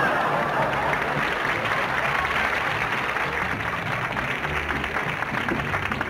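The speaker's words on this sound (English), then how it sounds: "Would all clap like this." Sustained applause from a large crowd, dense and continuous clapping at a steady, fairly loud level for several seconds.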